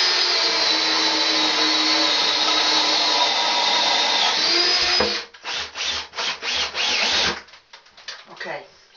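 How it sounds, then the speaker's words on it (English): A Harbor Freight Warrior stubby 3/4-inch auger bit drills into wood with a loud, steady whine for about five seconds, then breaks into a series of short bursts and stops. "This stubby auger bit is a 3/4."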